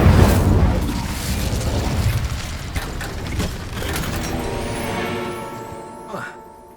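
Incendio fire spell cast in Hogwarts Legacy, a heavy whooshing burst of flame with deep rumbling impact that fades into mechanical clanks and a ringing tail, with a voice in the scene.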